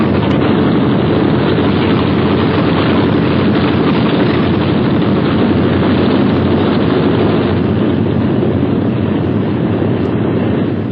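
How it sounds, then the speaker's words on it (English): Engines of B-17 Flying Fortress bombers over Germany in 1944 roar loudly and steadily as a dense, unbroken drone that stays constant throughout. "Only the roaring engine sound of the bombers"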